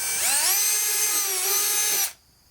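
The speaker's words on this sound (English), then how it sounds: "let's drill a hole through here" A power drill whines at high pitch as it bores through plastic on a Kawasaki Bayou 220 ATV, a steady close two-second run that slows slightly before stopping abruptly.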